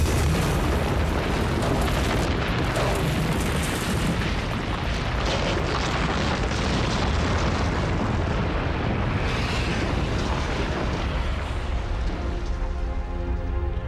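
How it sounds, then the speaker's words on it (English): A dense, continuous roaring rumble of an explosion effect for colliding planets, loud and sustained throughout with no talking. "As the planets got closer, their immense gravitational fields ripped each other's outer layers to pieces. Then they catastrophically collided."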